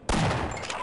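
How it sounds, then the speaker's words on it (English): A shotgun fired point blank in the 1998 video game Half-Life, a single loud blast with a sharp onset and a short rumbling tail, close and alone. "Shotgun point blank."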